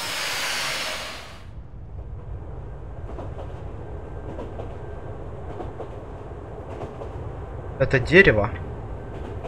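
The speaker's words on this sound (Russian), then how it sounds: "Там поезд, звук поезд." A train in the video game Mind: Path to Thalamus rumbles low and steady in the background, with clattering rail sounds swelling briefly near the end; someone speaks over it.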